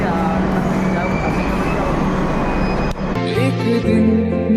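A metro train running as heard from inside a carriage, a loud steady rumble and rolling roar that changes abruptly near the end as music starts playing over it.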